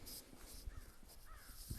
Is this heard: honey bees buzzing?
no